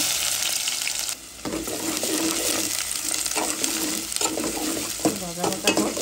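Onion hits hot oil with panch phoron, dried chilli and garlic for masoor dal, crackling in a steady close sizzle with stirring scrapes throughout and a brief dip before the frying picks up again.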